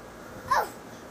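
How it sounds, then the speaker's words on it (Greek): A single short dog bark, fairly faint and distant, rises once out of a quiet background with no talking. "Τι ήταν, ο σκύλος."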